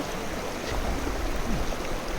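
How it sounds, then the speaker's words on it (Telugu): Sahasradhara, a series of waterfalls crossed on the Satopanth trek in the Himalayas, gives off a steady, moderately loud rush of falling and flowing water that continues unbroken throughout, with no voices. "ఈ వాటర్ ఫాల్స్ వరుసన ఉండే దగ్గర దగ్గర గంట పైన పట్టింది నాకు ఈ సహస్రధార దాటానికి"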